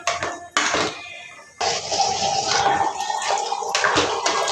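Water gushes steadily into a pot of drumstick curry being cooked, with a brief pause before the pour resumes, alongside light clinks of metal.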